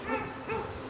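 Honey bees buzzing as they fly in and out of a hive, a brief faint humming drone with slight swells in pitch, nearby and heard alone.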